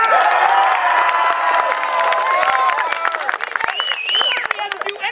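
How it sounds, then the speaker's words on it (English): A theater audience cheers, whoops and claps wildly for a volunteer named Bert coming up on stage at a comedy magic show, a loud sustained crowd roar with shouts and applause throughout. "Cheer Bert wildly as he comes up."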